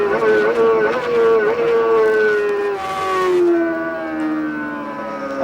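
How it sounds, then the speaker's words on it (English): A racing motorcycle in the 2004 AMA Formula Xtreme series at Road America, recorded from an onboard camera. A loud, whining engine note falls in pitch through successive drops as it brakes heavily and downshifts into turn 5. "Listen to heavy braking."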